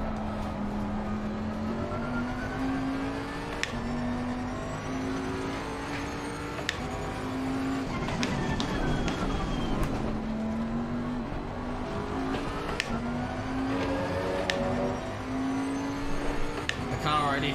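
A race car engine in Assetto Corsa Competizione whines through repeated gear changes, rising and dropping in pitch as it accelerates and brakes through corners, with someone talking over it.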